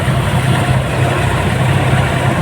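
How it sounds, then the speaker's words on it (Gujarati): A Massey DI 7250 tractor engine runs steadily close by, a loud, continuous low diesel rumble with no speech. "આ છે ટ્રેક્ટર 7250"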